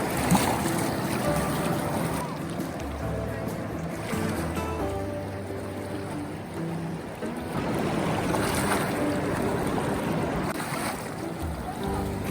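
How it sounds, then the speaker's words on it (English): Steady rushing wash of small river waves lapping onto a sandy shore at Cathedral Wash, Glen Canyon, Arizona, with broadband wind-like noise throughout and no clear breaks. "there's many waves coming up to the sand"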